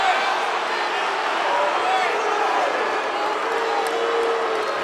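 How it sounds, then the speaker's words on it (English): An indoor college basketball crowd at Reynolds Coliseum, during an NC State game against Detroit, keeps up a loud, sustained roar of many overlapping voices with no pauses. "And this crowd here in Reynolds Coliseum crowd doesn't like that."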